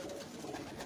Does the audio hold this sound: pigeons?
yes